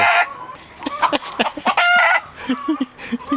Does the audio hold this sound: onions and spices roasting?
no